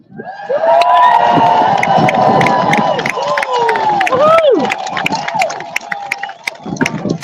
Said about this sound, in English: So here is your biggest cheer,